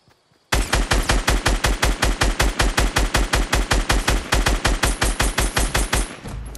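Rapid automatic gunfire in a video game shooter, roughly thirty evenly spaced loud shots ripping out in a steady burst for about six seconds, close and dominant, then cutting off.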